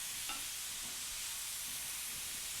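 Onions and beets cooking down in a pan for a tart, a steady soft sizzle and hiss of frying that runs the whole time with a few faint stirring clicks, no talk.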